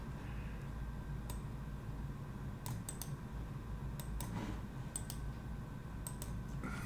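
Short bursts of typing on a computer keyboard, crisp key clicks in small clusters over a quiet room hum, fairly close and soft, with no voices.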